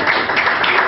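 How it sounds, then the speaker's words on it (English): A live music audience claps and applauds for a performer's family, a dense, steady wash of hand claps that stays loud and even for under a second. "Let's give our folks a nice round of applause"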